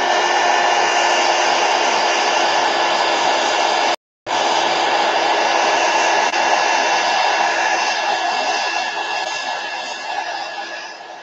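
A hair dryer blows steadily on a watercolor painting, a loud continuous whoosh that cuts out briefly and then resumes, running on alone without talk.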